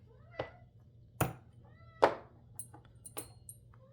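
A cat meows several times nearby, short separate calls spaced a second or so apart, over a faint steady hum.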